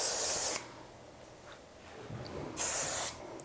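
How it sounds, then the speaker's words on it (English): Two short bursts of hair spray hiss onto fine hair, each about half a second long, with a quiet pause between them. "Get a little spray."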